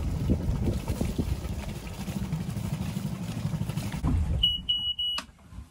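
An inboard boat engine idles with a low, steady rumble for about four seconds, fairly loud and close. It then cuts out and is followed by a few short, high-pitched electronic beeps.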